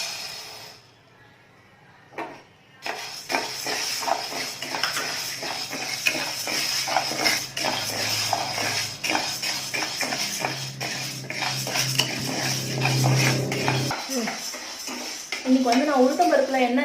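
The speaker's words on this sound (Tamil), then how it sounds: "இப்போ இந்த உளுத்தம் பருப்பை வந்து நம்ம இதில் போட்டு ட்ரை ரோஸ்ட் பண்ணிடலாம்." Urad dal being dry roasted in a pan on a gas stove, with repeated scraping and stirring clatter against the metal and a faint steady hiss, while someone talks over it.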